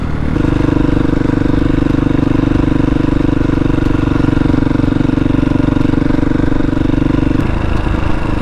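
A KTM motorcycle engine hums at a steady, loud drone while riding along a curvy road, with a strong constant tone that holds for most of the stretch before easing slightly near the end.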